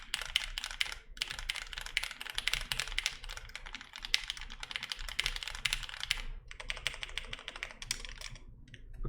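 Steady, close typing on an OTD 360 Corsa mechanical keyboard, a dense run of crisp clacking keystrokes with a couple of brief pauses and no talk.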